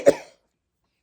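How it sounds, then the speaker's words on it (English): A single short, sharp cough, close by, followed by silence. "Sorry, I didn't know I had a cough."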